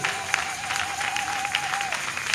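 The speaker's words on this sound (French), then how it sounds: "Pouvons-nous applaudir pour Dieu quelques minutes?" Worshippers at an evangelistic church service clap for God, a thick steady burst of applause with a sustained note sounding beneath it, filling the short stretch without pause.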